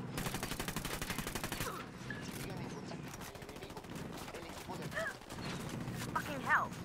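Sustained rapid gunfire from a firefight against cartel forces in Ghost Recon Wildlands, dense bursts of automatic weapons overlapping into a continuous volley with scattered sharper shots, and a voice speaking over the battle.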